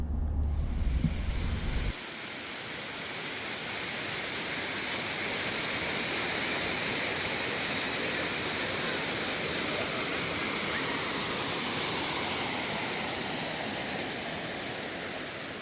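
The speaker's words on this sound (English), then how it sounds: "at Amicalola Falls State Park, home of the highest waterfall in Georgia" Amicalola Falls, the highest waterfall in Georgia, roars in a steady broadband rush that fills the scene without pause, close and loud, with a brief burst of wind buffeting the microphone at the very start and no talking.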